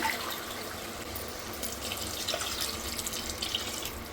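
Water poured into a pot for cooking rice, a continuous close splashing stream that runs evenly from start to end, fairly quiet and without voices.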